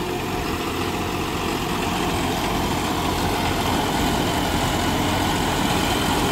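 A John Deere 5405 CRDI tractor runs with a rotary tiller in a wet clay field, its diesel engine giving a loud, steady, unbroken drone throughout.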